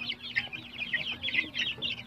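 Young Chinese Silkie crossbred chicks chirp rapidly and continuously at close range, high peeping calls overlapping in a busy cluster over a faint steady hum.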